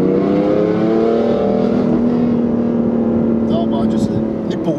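A BMW F80 M3 engine pulls hard under acceleration, its rising harmonic drone sweeping upward steadily and loud, with a faint voice toward the end.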